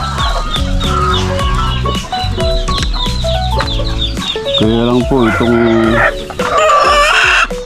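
Hens squabbling over nests holding eggs cluck and squawk loudly up close, with a crow rising near the end while someone speaks briefly.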